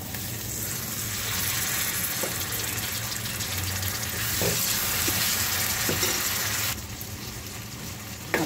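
Tomatoes cook in a fenugreek seed bhaji masala, sizzling in a steady, moderately quiet hiss with soft stirring knocks, then the sound drops a little near the end.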